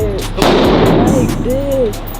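A single loud gunshot fired at an indoor gun range, sharp and close, with people talking briefly before and after the blast.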